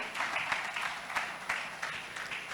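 A seated audience at an induction evening keeps clapping as a business school dean walks up, a steady, moderately loud spread of many hands with a few sharper individual claps standing out.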